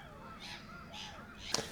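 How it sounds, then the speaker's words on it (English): Black-headed gulls give harsh, drawn-out calls at a wetland reserve, three rising-and-falling cries spaced over under two seconds, fairly distant and faint, ending with a brief sharp click. "The black-headed gulls do not shut up at all."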